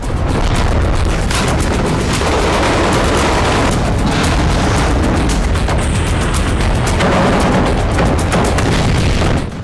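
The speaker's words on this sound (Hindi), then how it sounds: "उत्तरी गाजा से लेकर दक्षिणी गाजा तक इजरायल विध्वंसक हमले कर रहा है।" Heavy explosions from Israeli strikes across northern and southern Gaza, a dense, continuous barrage of loud booms and blasts with sharp bursts layered over a constant roar, no voices.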